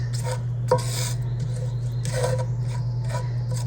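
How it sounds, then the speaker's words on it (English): Milk being stirred into a scalloped potato mixture with a utensil: soft scraping and rasping strokes against the bowl in irregular bursts, close up, over a steady low hum. "Stir everything around a bit"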